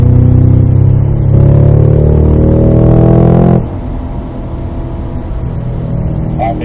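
A Cadillac CT5-V Blackwing on a track accelerates at full throttle with a loud, steady engine drone that climbs in pitch, then drops abruptly into a lower, rougher roar.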